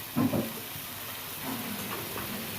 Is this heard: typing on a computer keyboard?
no